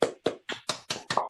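Clapping over an online video call after a storytelling show, six distinct, evenly spaced hand claps sounding close and fairly loud, each sharp and short with brief silence between.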